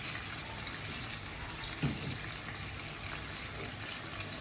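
A little water poured into a pan of fish and ground spices for Bengali tel koi, a soft, faint wash of liquid with one brief splash partway through.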